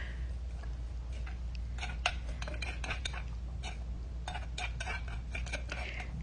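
Aromatics pounded coarsely in a mortar for Lao bamboo shoot mok, a continuous stream of light knocks and clicks at an uneven quick rhythm over low background hum, close and fairly faint, no talk.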